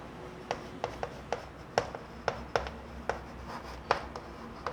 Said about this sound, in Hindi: लिखते हैं यहाँ पर